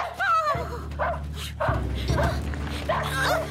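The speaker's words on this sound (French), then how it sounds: "Sultan, mon chien." A dog whimpers and yips in short bursts over a steady low hum, with voices talking alongside.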